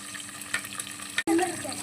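Onion with coriander and curry leaves frying in hot oil for khichdi, a close, continuous hiss with a sudden brief break and then a louder sizzle as more goes in.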